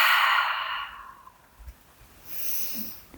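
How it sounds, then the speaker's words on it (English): A slow, airy exhale pushed out through the mouth during a yoga breathing exercise, close and soft, trailing off into quiet before a faint follow-up breath. "exhaling it out through the mouth"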